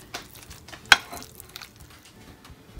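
Boiled chicken and mayonnaise sandwich filling mixed in a bowl, with soft wet squelching strokes and one sharp clink of the utensil against the dish, close and quiet, no talking.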